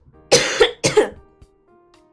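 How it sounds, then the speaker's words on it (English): Two sharp, loud coughs in quick succession close to the microphone, followed by a brief throat sound and quiet. "I'm gonna cough."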